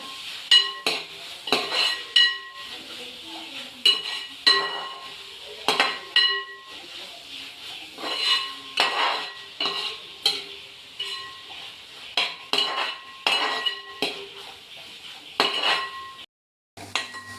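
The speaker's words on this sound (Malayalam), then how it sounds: "തക്കാളി അരിഞ്ഞ് ചേർത്ത് കൊടുക്കാം നന്നായി ഇളക്കി കൊടുക്കാം" Chopped tomatoes are stirred in a pan for Kerala-style prawn roast, a metal spoon scraping and clinking against the pan in repeated rhythmic strokes over a light sizzle.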